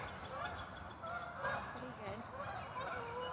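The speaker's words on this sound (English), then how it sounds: "The geese are out." Geese honking outdoors at sunrise beside the Erie Canal, repeated nasal honks from a flock overlapping steadily at moderate distance, with faint voices in the background.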